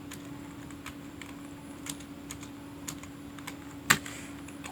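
Steady light tapping on a computer keyboard as text is typed, a string of soft close clicks over a constant low hum, with one louder keystroke near the end and no talking.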